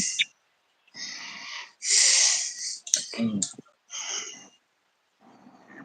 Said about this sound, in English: Breathing pretty heavy there, bro.